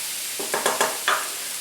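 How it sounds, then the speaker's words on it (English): Shishito peppers and shiitake mushrooms being stirred in a pan: four or five distinct scraping strokes over a steady sizzle, close and fairly quiet, with no talking. "So now I'm going to mix everything through, and I'll allow it to warm up a little bit."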